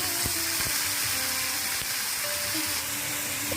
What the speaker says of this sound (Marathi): दोन बारीक चिरलेले कांदे यामध्ये आम्ही टाकत आहोत